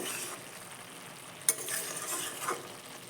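Cabbage curry with chopped coriander leaves simmering in a pan, a quiet low sizzle with a sharp clink of the spoon and a few soft stirring scrapes.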